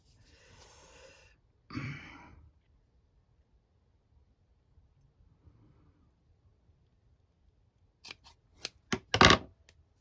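Scissors snipping in several quick cuts near the end, preceded by a soft breathy rustle and a short burst of noise, in an otherwise quiet room.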